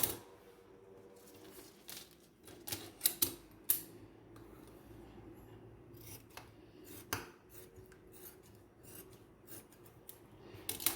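Scissors snip through fabric for a body cone short gown in a series of quiet, close, uneven cuts, with small clusters of sharp snips between softer rustling handling.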